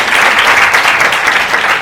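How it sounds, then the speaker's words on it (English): Loud, dense audience applause for ambassadors at a women's run event, a brief steady burst of many hands clapping close and full. "big round of applause"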